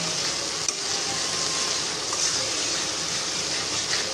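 Spice paste with turmeric being stirred in a hot pan: a dense, even hiss of frying fills the whole stretch, with only a faint tap or two from the utensil and no speech.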